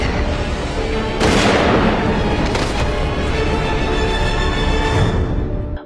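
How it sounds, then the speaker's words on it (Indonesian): A pistol loaded with a wooden bullet fires a single sharp report that booms over a dense, loud background. "Brady yang telah menggantikan posisi Jules lalu menembakkan pistol yang berisi peluru kayu ke kepala Caroline."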